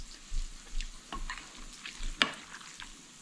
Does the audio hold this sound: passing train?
no